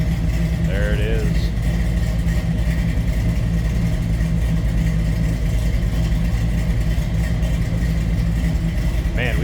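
A 1969 Chevrolet Camaro Z28 tribute's engine runs steadily, close behind the car, with a loud, constant rumble that holds for the whole stretch without clear revs.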